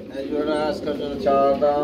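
Racer pigeons coo in soft, throaty rolling phrases, close by, while people talk over them at a pigeon farm sale.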